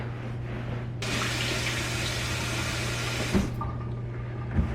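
A kitchen tap runs water into a sink during cleaning, starting abruptly, then pouring steadily and close for about two seconds before being shut off, followed by faint clatter.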